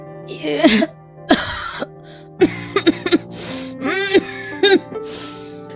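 A woman with an illness coughs and clears her throat repeatedly in separate bursts with pauses between, close by, along with raspy breaths and strained vocal sounds.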